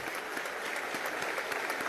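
Sustained applause from deputies standing in the Venezuelan National Assembly during a session, a thick, continuous wash of many clapping hands filling the chamber without pause.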